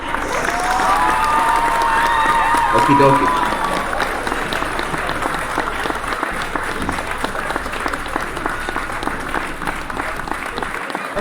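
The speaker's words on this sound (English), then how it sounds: "Let me hit the clap" Applause on a live talk show, a steady dense wash of clapping with some cheering, heard under a host's brief remark and a whistle-like tone near the start, continuing evenly to the end.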